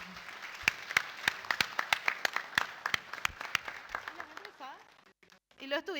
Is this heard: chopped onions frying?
no